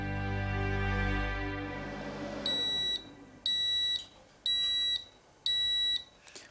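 A Japanese rice cooker signals the end of cooking with four evenly spaced, clear high electronic beeps, faint in the room after a fading low hum, with no talking.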